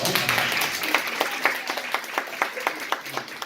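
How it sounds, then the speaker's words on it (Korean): A children's congregation at a Sunday elementary-school church service claps together, a dense, steady round with sharp unison beats spaced evenly through it, filling the whole stretch. "한번 박수 한번 주세요."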